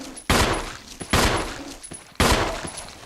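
Three loud gunshots ring out in the Resident Evil Remake video game, each a sharp close blast with a decaying tail, spaced roughly a second apart.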